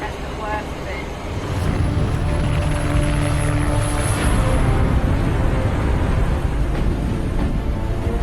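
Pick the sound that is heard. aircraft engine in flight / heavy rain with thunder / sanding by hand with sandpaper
aircraft engine in flight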